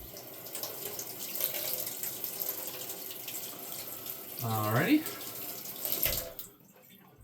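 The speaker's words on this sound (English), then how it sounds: "We're going to wash this one off." Warm tap water runs into a kitchen sink while a potato is washed, a steady hiss that swells and splashes as the potato goes under the stream, then cuts off abruptly; someone speaks briefly over it.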